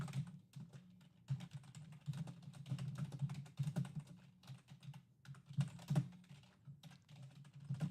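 Steady clatter of typing on a computer keyboard during a live trading-card break stream, uneven bursts of key presses close up, no voices over it.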